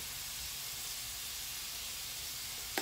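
Salmon and cauliflower rice frying in a pan, a steady close sizzling hiss that holds evenly, ending with a brief clatter.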